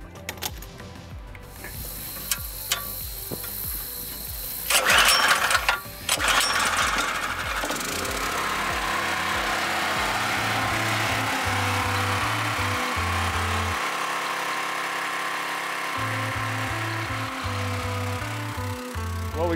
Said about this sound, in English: we got that pump running and filling up that water tank.